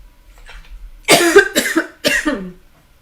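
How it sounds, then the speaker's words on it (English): A woman coughs in three harsh bursts, close and loud, after a faint breathy lead-in, with no speech during the fit. "cannot believe I'm going to start coughing."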